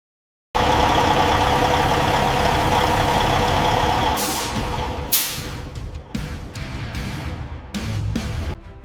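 A Peterbilt 379 truck's steady, loud engine idles close by in a shop, a low rumbling drone with a few clicks and brief bursts of higher noise toward the end.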